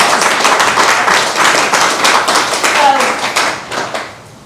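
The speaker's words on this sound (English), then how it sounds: "Can I have a round of applause about that?" An audience breaks into a steady round of hand clapping, fairly close and loud, tapering off toward the end with a voice faintly heard.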